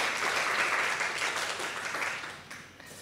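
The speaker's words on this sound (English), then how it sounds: "So give everybody a clap for Leo." Audience applause at a talk on genome hacking with CRISPR, a steady wash of clapping that slowly fades toward the end with no voices.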